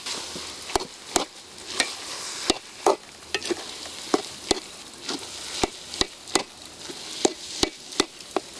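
Potato bonda filling is stirred in a pan outdoors, with a spoon scraping and knocking the pan in repeated sharp clacks over a steady sizzle, with no talking.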